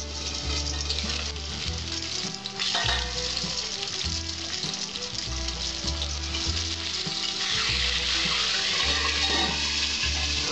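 Boal fish pieces fry in hot oil, producing a loud, continuous close sizzle with crackling and spattering that holds steady throughout, with no talk.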